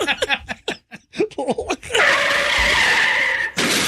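Talking and chuckling give way to a loud, sustained car skid and crash effect lasting over a second, then an abrupt cut.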